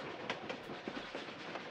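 A train in Tomb Raider: The Last Revelation, rumbling steadily with faint rhythmic clacks of the rail cars, a continuous moderate mechanical roar with no voices.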